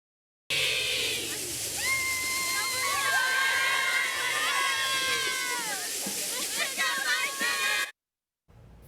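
North Pontotoc Viking high school cheerleaders shout and cheer at a Friday night football game: several loud, overlapping young voices with rising and falling calls for about seven seconds, then a sudden cut to near silence.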